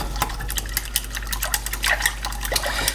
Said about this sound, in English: So I'm gonna whisk this all together.